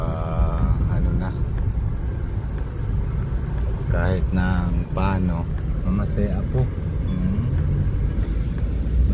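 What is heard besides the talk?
road traffic behind a jeepney and a tricycle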